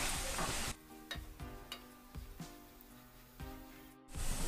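Bitter gourd pieces coated in garlic chili powder sizzle in a pan while a spoon stirs them, with soft scrapes and clinks breaking through the quiet frying.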